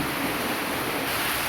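Steady rain pours outdoors at a beach house construction site in the Philippines, a dense continuous hiss with no talk over it.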